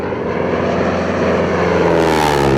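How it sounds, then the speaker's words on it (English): A 1939 Harvard propeller plane flies over in the Wairarapa, its engine a loud, continuous droning roar that swells as it passes close overhead. "We recorded Planes Over in the Wairarapa, and that was with a 1939 Harvard."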